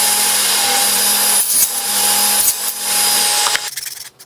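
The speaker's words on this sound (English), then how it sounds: "To do this, I cut them out on my table saw sledge" Table saw on a sledge cutting 32 mm aluminium spacers, a loud steady whining buzz held for about three and a half seconds with brief dips before it cuts off and winds down.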